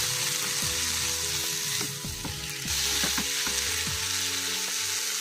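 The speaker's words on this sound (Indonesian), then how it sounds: "Masak dulu batang sawinya nanti sampai dia setengah matang. Masaknya menggunakan api yang besar ya teman-teman." Mustard green stalks stir-fry in a pan over high heat, a continuous bright sizzle with scraping and tossing as the spatula moves the stalks, close and loud, with no voice.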